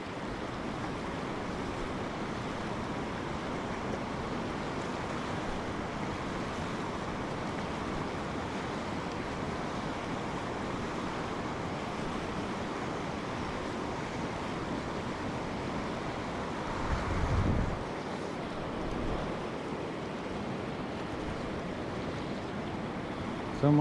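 Steady wind blows on a Hebrides salmon river, a continuous broad rushing roar with gusty buffeting against the microphone and a brief louder rumble near the end.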